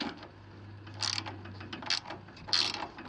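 A ratchet wrench backs off a nut on the carburetor of a 30-year-old Honda HS828 snowblower, giving a few short, quiet bursts of clicking separated by pauses.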